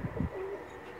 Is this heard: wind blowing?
no